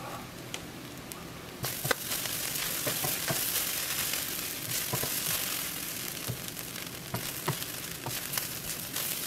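Egg fried rice with spring onions stir-fried in a hot pan, a steady close sizzle broken by scraping stirs and occasional clatters of the spatula, with no voices.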